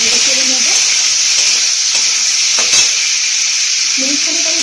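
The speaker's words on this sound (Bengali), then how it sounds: "নেড়ে চেড়ে নেবো।" Raw mango pieces, cut into thick chunks, are stirred with salt in a hot pan, giving a steady close sizzle with soft scraping as the pieces are turned; no one speaks.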